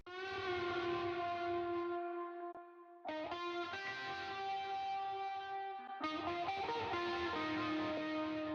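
Sustained electric guitar notes through a tape-emulation plugin, with a warm, saturated, slightly wobbly tone, played alone in three phrases with brief pitch bends, loud and close.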